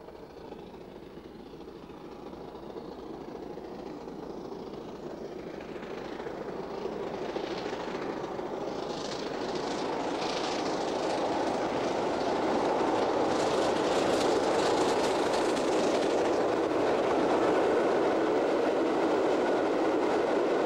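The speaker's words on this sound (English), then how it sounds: "in July 1991, the locomotive broke the all-time record for the southbound climb on the long drag" A British Railways steam locomotive climbing southbound on the Settle and Carlisle line, a continuous rumbling, chuffing roar that builds steadily louder as it draws nearer.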